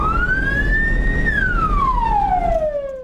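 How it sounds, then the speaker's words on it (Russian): An ambulance siren switches on and wails loud and close, one long rising then falling tone sweeping over steady vehicle noise, with no talk. "Мигалка. Сирену сейчас вот будем включать."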